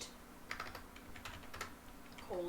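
Code being typed on a computer keyboard for a Roblox Studio script, a quick close run of soft key clicks in an uneven rhythm, heard alone.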